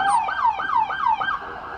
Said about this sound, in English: I was screaming over the sirens.